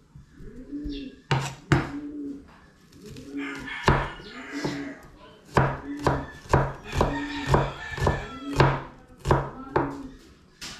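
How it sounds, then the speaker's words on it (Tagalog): A knife chops ingredients on a cutting board in sharp, irregular clusters of knocks, close and loud, while birdlike cooing or crowing sounds rise and fall underneath. "Ito muna nga, hiwain na muna natin."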